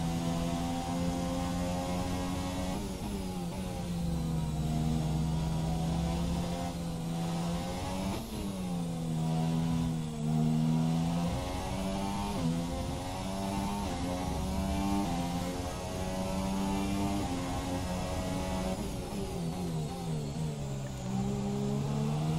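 Toro Rosso Formula 1 car in the game F1 2017, on the China circuit in a wet session, held at full throttle, a loud, continuous high-pitched engine whine climbing and dipping through the gears with no talk.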